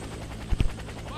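A helicopter in a video game, heard as a brief burst of low, heavy rotor thumps over constant background game noise.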